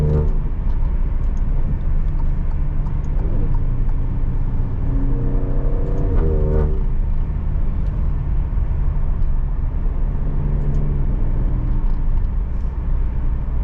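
A 2020 Alfa Romeo Stelvio Quadrifoglio engine hums steadily with a couple of rising revs as it accelerates, sounding close and smooth, with no voices.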